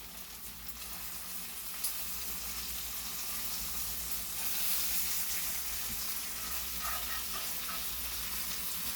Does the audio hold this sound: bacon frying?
yes